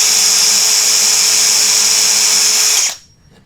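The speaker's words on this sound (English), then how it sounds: "So try and keep the drill nice and upright." Power drill boring through wood for a carved love spoon, a steady high whine held close and loud for nearly three seconds before it abruptly winds down into quiet.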